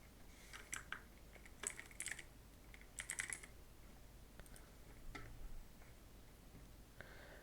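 Typing on a computer keyboard: quiet, close key clicks in short irregular bursts with brief pauses between them, alone with no talking.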